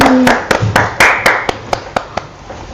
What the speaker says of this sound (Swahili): Jamani pige makofi